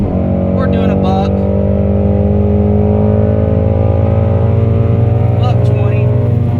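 A 2016 Shelby GT350 Mustang engine drones loud and close while accelerating on a country road, a steady, rising exhaust note filling the cabin from start to finish, with brief speech over it.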